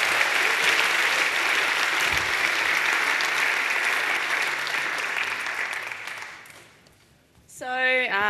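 Loud audience applause at a tech talk on environment variables, sustained clapping from a large crowd that fades out after several seconds before a voice begins speaking.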